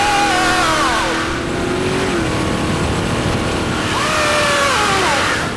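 A $500 Ford Ranger truck built into a heavily modified off-road racer accelerates hard on a loose dirt track, its engine revving loudly and continuously with pitch sweeps through gear changes, up close and without talk.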